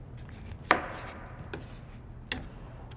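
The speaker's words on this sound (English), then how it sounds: "cut this orange up" A knife cuts through an orange with a few sharp, separate strokes against a board, with quiet pauses between the cuts.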